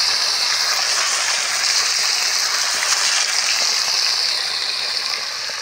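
Rohu fish pieces frying in hot oil, a steady broadband sizzle that stays loud and even throughout, close by, with no talk.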